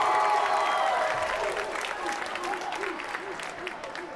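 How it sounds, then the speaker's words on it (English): Graduation ceremony crowd at John Adams College and Career Academy applauding and cheering, a full sustained roar of clapping and voices in a large venue, gradually easing as a voice begins over it. "Oh, I know you got a lot more cheer than that."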